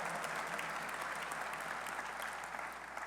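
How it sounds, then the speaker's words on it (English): An audience at an introductory press conference claps steadily, a dense, even wash of applause holding at full strength for a few seconds before easing slightly. "Give them a round of applause"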